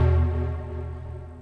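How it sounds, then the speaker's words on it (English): A Vital synthesizer preset named Peace of Your Heart from a sound bank, playing a warm sustained chord with a strong low end and rich stacked harmonics, loud at first and slowly fading, with no voice over it. "This is the preset called Peace of Your Heart"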